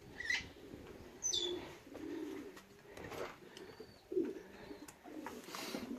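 Racing pigeons back at the loft after a 360 km race coo in low, throaty rolls, repeated softly at close range with faint chirps and wing sounds in a quiet outdoor setting.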